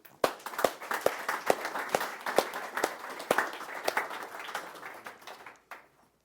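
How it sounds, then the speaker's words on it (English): A small podcast audience gives a round of applause for a guest, Ricky Singh, with distinct sharp claps in a steady rhythm from a few people, moderately close and fading out after about five seconds. "please give a round of applause for Mr. Ricky Singh"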